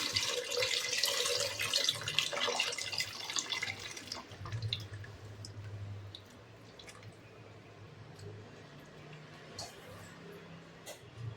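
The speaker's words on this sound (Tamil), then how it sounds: "இது புளி தண்ணி ஊற்றிக்கலாம்" Tamarind water poured into a pan of anchovy fish curry, a broad splashing wash that runs for about four seconds, then settles into a quieter simmer with faint drips and sizzles.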